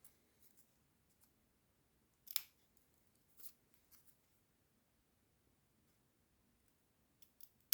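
Scissors snip through material while shaping a Christmas star, a few isolated quiet cuts spaced across a near-silent background, with one sharper snip standing out.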